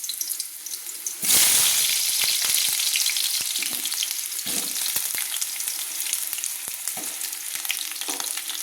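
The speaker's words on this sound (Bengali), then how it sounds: "এখানে আমি যে দুটো আলু লম্বা লম্বা করে কেটে ধুয়ে রেখেছিলাম, এগুলো কিন্তু আমি ভেজে নিচ্ছি।" Long-cut, rinsed potato strips fry in hot oil, a loud sudden sizzle erupting as they drop into the pan and then settling into a steady, bright crackle with occasional stirring clatter.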